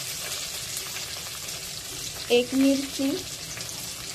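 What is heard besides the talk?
onion sautéing in pan with cumin and chilli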